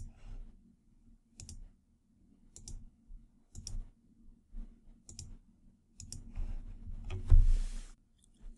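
Computer mouse clicks in a quiet room, a series of sharp, close single clicks spaced about a second apart, ending with a slightly louder rustling handling sound.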